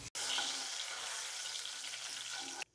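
Bay leaves and cardamom sizzle in hot ghee in a wok, a steady, loud frying hiss that starts abruptly and cuts off at the end, with no talk over it.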